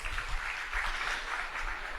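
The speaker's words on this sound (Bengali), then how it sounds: "তার জন্য একটা করতালি হবে প্লিজ।" An audience claps together in sustained, even applause at an indoor gathering, a dense close wash of hand claps running without a break.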